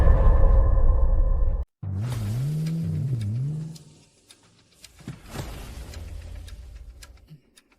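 A car starts up and pulls away, with a loud engine rumble and a rising, wavering revving whine that fades into softer road and movement noises.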